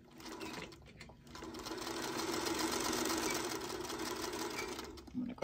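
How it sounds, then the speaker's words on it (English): A sewing machine stitching quilt block pieces together with a quarter-inch seam allowance, running as a steady, close mechanical whir for several seconds with brief pauses at the start and end. "we're going to sew these together, and we're just going to be using 1/4-inch seam allowance"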